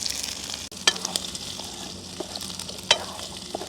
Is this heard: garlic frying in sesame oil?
yes